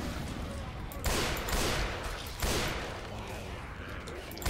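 Grenade launcher rounds fired at zombies in Left 4 Dead 2, two heavy booming blasts about a second apart over a steady rumble of game noise, with faint voices in the background.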